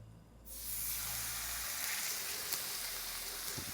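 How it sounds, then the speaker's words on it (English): Chicken breast hitting hot avocado oil in a pan, a sudden burst of loud, bright sizzling that holds steady, with a faint low hum underneath. "That sizzle, that's what you wanna hear."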